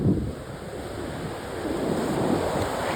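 Sea waves break on a beach in a steady, rushing roar, with gusts of wind buffeting the microphone throughout.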